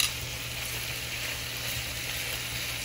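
Bacon fries in a pan with a constant, even sizzle and crackle, close and steady throughout with no voices.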